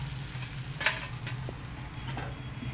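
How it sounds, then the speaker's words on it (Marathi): Dhapate flatbread roasting in an oiled pan gives off a steady low sizzle with a few soft scrapes and taps of handling, close and even, with no voices. "आपण नंतर पण थोडंसं तेल लावून घ्यायचं आहे आणि दुसरी साईड पण छान भाजायचं आहे"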